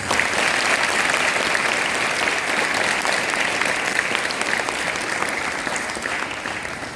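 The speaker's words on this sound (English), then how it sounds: "Let's all give them a very good round of applause." Audience applause at a school investiture ceremony, steady, dense clapping from a large crowd that holds strong for the full stretch and eases slightly toward the end.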